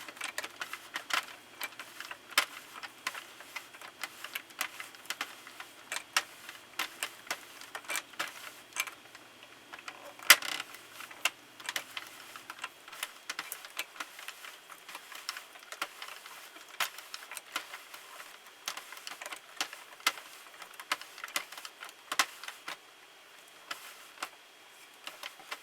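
A Sentro knitting machine is cranked back and forth while casting on velvet yarn, giving a continuous series of light, sharp plastic clicks and ticks at close range with no talking.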